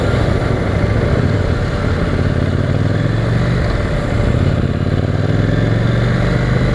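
A KTM Duke 800cc motorcycle engine runs steadily and loudly up close, a continuous throbbing drone with no pauses and no speech over it.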